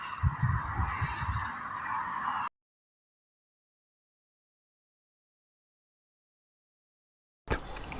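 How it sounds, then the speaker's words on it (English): Birds at a lake or pond in England give brief honking, cawing calls over outdoor background noise, then the sound cuts out to silence before returning briefly at the end. "there's a lake or a pond And there are a lot of birds around"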